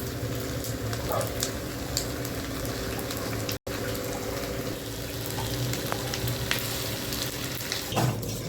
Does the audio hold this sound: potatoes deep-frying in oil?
yes